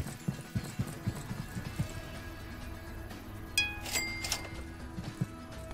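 Horse hooves clip-clop in a farm simulation video game, a run of regular hollow clops near the start and again near the end, with a few bright chiming tones in between.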